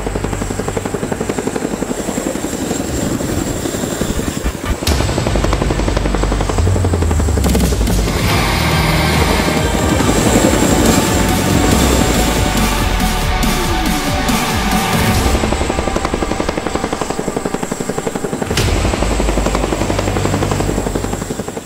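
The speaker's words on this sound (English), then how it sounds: "Today we're diving deep into the Agusta A129 Mangusta, the pride of the Italian army and the first attack helicopter fully designed and built in Western Europe" An Agusta A129 Mangusta attack helicopter flies by with a loud, steady rotor thump and turbine whine that swells and shifts as it passes overhead, sustained throughout with no talk.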